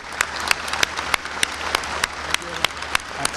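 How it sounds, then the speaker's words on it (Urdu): Audience applause at a Pakistani government event honouring a disaster-management team, steady dense clapping with sharper individual claps standing out, moderately loud and sustained throughout. "آپ تالیوں سے ان کی اور ان کی ٹیم کی بھرپور ستائش کریں"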